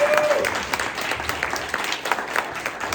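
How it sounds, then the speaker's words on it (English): An audience at a Day of Service talk on asylum seekers in New York City breaks into a steady round of applause, dense clapping throughout with a brief tonal whistle or feedback near the start. "give yourselves a huge round of applause"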